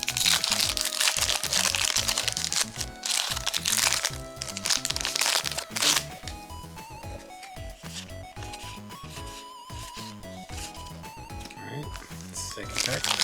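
Yu-Gi-Oh! card booster pack being torn open, crinkling and crackling foil wrapper rustles close up, mixed with card handling, under a person talking.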